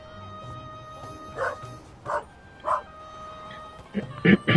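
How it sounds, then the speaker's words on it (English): A dog in The Raven Remastered video game barks in a few sharp, spaced yips and bow-wows, growing louder and quicker toward the end, over a steady background hum. "Good dog."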